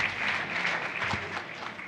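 Audience at a Legal Services Corporation 50th anniversary forum giving a dense, steady round of applause, many hands clapping together in a sustained wash heard from within the room.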